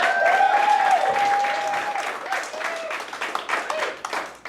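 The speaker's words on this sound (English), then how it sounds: "Let's get another round of applause for Georgia Reed" A stand-up comedy crowd gives another round of applause for comedian Georgia Reed, steady clapping that starts under a host's amplified voice and then tapers off toward the end.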